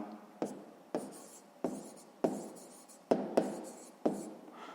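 Pen strokes scratch across paper as a circle's radius is noted in a sixth-grade maths exercise, a run of close, short scribbles with sharp starts and quick fades, steady throughout.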